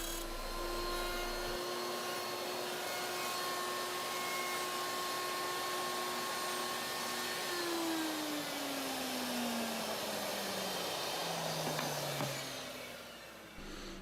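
A handheld router cuts a slot all the way through a wooden cutting board, a loud, steady high-pitched motor whine with cutting noise that holds for about twelve seconds, then the pitch drops as the tool spins down, with no talk.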